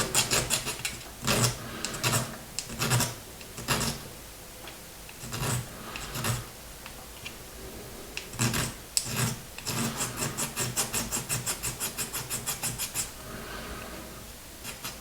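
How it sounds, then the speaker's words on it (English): A metal file is worked over the top of a brass tube sticking out of a plastic 1/24 scale model cannon shell, giving repeated short raspy strokes in irregular bursts, some quick and rhythmic, close up with no talk. "So what I'll do now is file the top of it."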